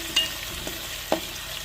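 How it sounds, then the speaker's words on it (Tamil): Onions and green chilies sauté in a pan with a soft, steady sizzle, while a spoon makes a few faint stirring clicks and scrapes. No one speaks. "நல்லா வெங்காயம் பச்சை மிளகாலாம் வெந்து வரட்டும்"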